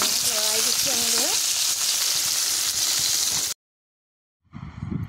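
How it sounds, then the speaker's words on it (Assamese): Okra frying in oil and being stirred, a loud dense sizzle filling the first few seconds with faint tonal chirps early on, then a sudden silence before the frying noise resumes. "ভিন্দিখিনিও ফ্ৰাই হৈছে আৰু অলপ হ'বলৈ আছে যিখিনি লৰাই দিছোঁ এনেদৰে"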